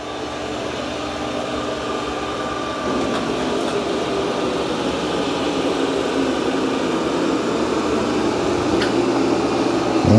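An Ecovacs Deebot T30S robot vacuum runs over carpet with a steady whirring motor hum and airy suction noise, close and constant, rising slightly partway through.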